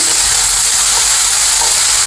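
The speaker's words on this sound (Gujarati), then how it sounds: "એને એક મિનિટ માટે સાંતળી લઈશું" Crushed ginger, green chili and garlic sautéing in hot oil for a cashew curry, a steady loud sizzling hiss that runs continuously with no talking.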